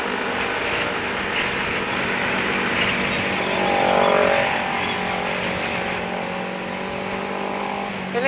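A motorcycle engine pulls steadily while riding, a continuous loud drone mixed with wind rush, rising slightly in the middle.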